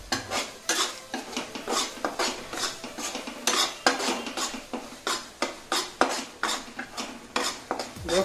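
Gram flour (besan) is stirred and fried in a pan for halwa, heard as rhythmic scraping strokes of a spoon against metal, repeating about twice a second over a faint sizzle.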